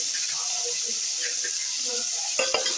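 Tomatoes and onions fry in a pan for mutton kuzhambu with a steady, close hissing sizzle, a few faint clinks of stirring near the end.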